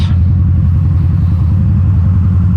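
Harley-Davidson V-Rod Muscle 10th Anniversary 2012 motorcycle engine holding a steady, close, deep low rumble throughout, with no talking over it.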